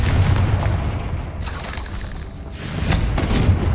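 Confringo spell explosions in Hogwarts Legacy, a rumbling fiery boom that rolls on with low-end roar and crackle, swelling again near the end as another blast lands.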